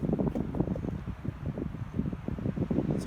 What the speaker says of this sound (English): You can see how windy it is right now.